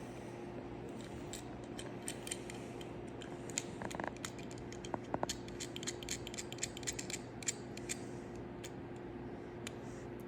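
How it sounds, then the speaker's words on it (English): A small nut with a locking washer is snugged down with a 14mm wrench on the mount of a multi-color light. Faint metallic clicks and light ratcheting ticks come intermittently over a steady background hum, with no talking. "We'll use the original locking washer and nut that you removed from inside the tube. We'll secure that down."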